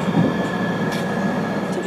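A train runs from Denver airport to downtown Denver, Colorado, with a steady loud rumble of wheels and car noise and a faint high squeal throughout. No talking.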